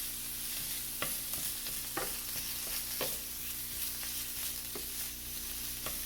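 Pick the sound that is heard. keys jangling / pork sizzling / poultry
pork sizzling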